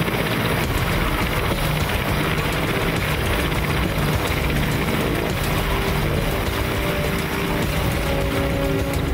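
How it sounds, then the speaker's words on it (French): Helicopters waiting to take off for a Soyuz capsule landing whir steadily with a constant, dense mechanical chopping drone, loud and unbroken throughout. "Les hélicoptères attendent le signal du départ."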